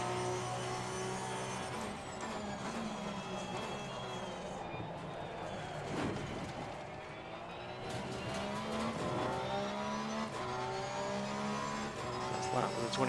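A race car circles Spa in the Assetto Corsa Competizione sim, its engine tone rising and falling through gear changes with faint tyre squeal, playing steadily at moderate volume.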